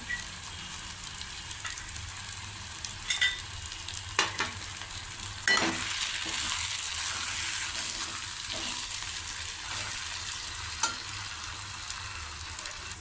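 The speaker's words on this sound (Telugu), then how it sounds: "ఈ కొబ్బరి కూడా కొద్దిగా పచ్చివాసన పోయేదాకా ఫ్రై అవ్వాలి కూరతో పాటు" Cucumber curry with two spoons of grated fresh coconut frying in a pan: a steady, close sizzle that continues throughout, with occasional scrapes and clinks of a stirring spoon against the pan.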